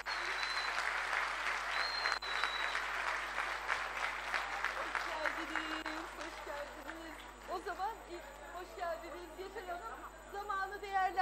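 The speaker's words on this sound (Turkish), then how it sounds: "Esra Çınar ve Nur Hayat Karaşahin, onlar gelirken bir alkışlarınızı alalım mı" An audience at a women's political meeting in Denizli, Turkey, bursts into sustained, dense applause that gradually thins out as chatter and voices take over near the end.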